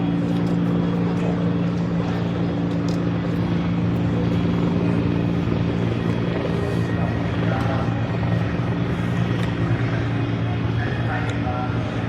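A helicopter monitors a crowd from above outside a stadium during a Portugal vs South Korea World Cup 2022 match, its steady rotor drone continuous and fairly loud under the bustle of people nearby.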